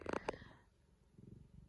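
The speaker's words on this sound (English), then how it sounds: "You might hear some purring. I have a kitty here." A pet cat purrs softly close by, a brief low rumble following a couple of short sharper sounds at the start.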